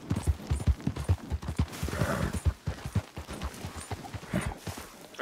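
Horse hooves clip-clop in a steady walking rhythm in the video game Red Dead, fairly close, with a few sharper knocks mixed in.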